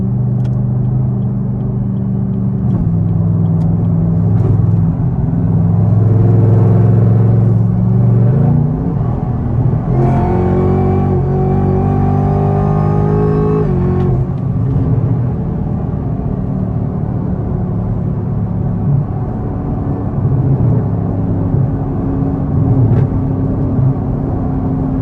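Supercharged Camaro ZL1 engine revving up while driving, a loud steady drone that climbs in pitch and surges at the middle, then settles back to a cruising rumble.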